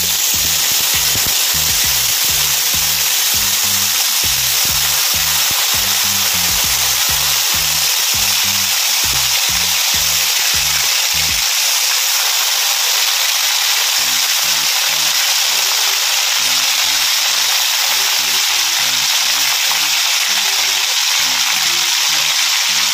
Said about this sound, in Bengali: এবার আমি এর মধ্যে দিয়ে দেবো আমার আগে থেকে বেটে রাখা বা পেস্ট করে রাখা আদা, পেঁয়াজ, রসুন,